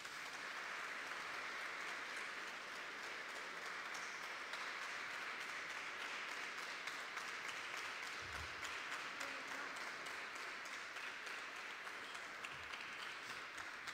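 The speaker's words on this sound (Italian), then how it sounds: "vogliamo accogliere in mezzo a noi con un forte applauso" At a Christmas concert in the Sanctuary of Paola, an audience gives a warm welcome to a singer and her instrumentalists. Faint, distant applause continues as an even, unbroken patter throughout.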